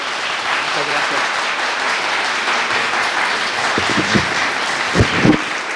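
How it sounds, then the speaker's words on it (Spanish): An audience in a university lecture hall claps to welcome a physics lecturer, producing a sustained, fairly loud wash of applause with a few low thumps and bits of voice or movement near the end. "les pido un aplauso para recibir al doctor Miguel Alcubierre"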